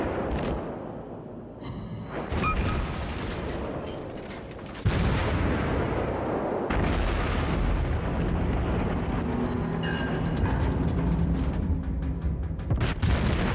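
Omaha cruiser guns firing in World of Warships, rumbling booms and sharp reports over a constant roar of engine and sea, with a heavy blast midway and steady loud battle noise after.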